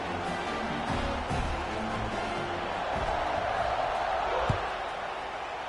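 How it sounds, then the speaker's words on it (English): A football stadium crowd keeps up a broad, steady roar after a touchdown, with scattered shouts and a sharp thump near the end, heard from a distance as a continuous wash of noise. "this crowd is buzzing after that last score"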